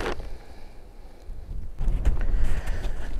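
Wind blowing outdoors in a cold-climate April garden, gusting against the microphone as a steady rushing roar that swells louder partway through, with no talking.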